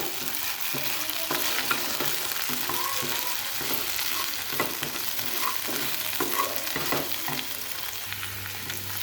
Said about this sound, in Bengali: মাঝে মাঝে ঢাকনা তুলে এভাবে নেড়ে দিতে হবে